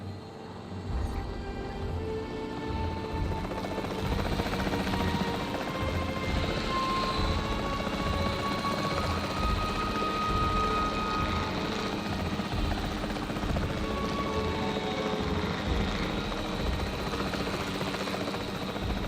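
A capture team helicopter in Jurassic World Evolution 3 thrums continuously with a dense rotor drone and engine whine, holding steady and close for the whole stretch without speech.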